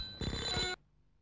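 A telephone rings in a Hindi-dubbed action film scene, one loud electronic bell burst lasting about half a second with a steady tonal buzz, then it cuts off to near silence.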